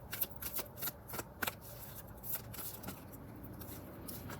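Deck of tarot cards being shuffled by hand, close, soft riffling and flicking bursts in quick irregular runs, quiet and alone with no talk.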